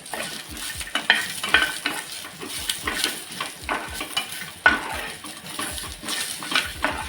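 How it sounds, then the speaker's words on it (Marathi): Garlic with coconut and onion fries and is stirred in a pan for a spicy crab curry. A busy sizzle runs under frequent scraping stirs and light metallic knocks, close by, with no talking. "आता आपण याच्यामध्ये टाकून लसूण टाकूया लसूणसुद्धा आपल्या छान असं याच्यामध्ये परतून घ्यायचं आहे"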